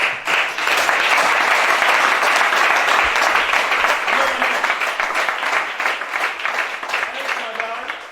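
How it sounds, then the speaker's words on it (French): Congregation applause during a sermon, dense and loud, rising quickly and holding steady, with voices mixed in and a few cheers near the end. "Acclame Shada."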